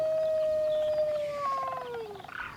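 Long, sustained tonal howls from animals in a zoo-building video game, likely siamangs: a few overlapping wavering calls that slide downward and fade out, fairly close and clear with no talking.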